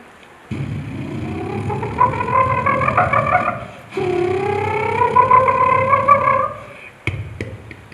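A mimicry performer at the Kerala State School Arts Festival mimics an autorickshaw engine, a buzzing rising drone held in two long stretches, close and fairly loud.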